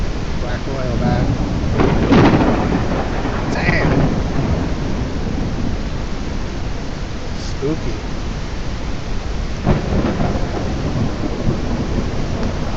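Rain hisses steadily through a thunderstorm in the video game Belts of Iron, with low rumbles of thunder swelling near the start and again later, while a man briefly reacts aloud.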